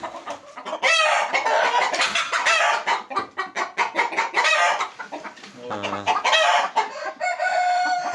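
Andijan black chickens on a mini farm cluck busily and a rooster crows amid the flock, the calls close, overlapping and fairly loud.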